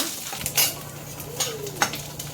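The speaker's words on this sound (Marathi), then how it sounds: "आता मी हे लसूण चांगला परतून घेते" Garlic sautéing in a pan for a Maharashtrian stuffed ridge gourd dish, with a soft steady sizzle beneath a few sharp clinks of a spoon stirring against the metal pan.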